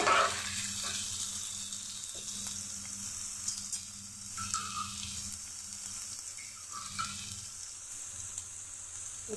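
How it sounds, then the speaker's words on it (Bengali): Garlic frying in a pan, a steady close sizzle and crackle that runs throughout at moderate loudness, with occasional light stirring strokes. "আমি একটু ভেজে নিচ্ছি। রসুনের কাঁচা গন্ধটা চলে যাবে।"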